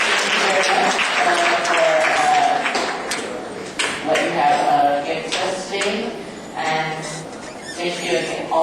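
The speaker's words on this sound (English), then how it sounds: "So we should give a big applause for Professor Botman and Professor Chair." An audience claps after the close of a conference session honoring two professors, a loud, sustained round of applause with scattered sharper claps, lasting several seconds while a voice speaks briefly over it.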